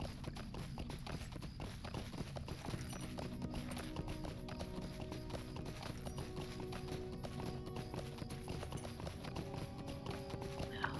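A mounted horse in the video game Lord of the Rings Online clip-clops along in a steady, rhythmic gait over quiet background music.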